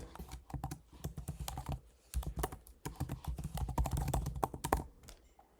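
Rapid, quiet keystrokes on a computer keyboard as an email address is typed, coming in uneven bursts with a short pause near the middle.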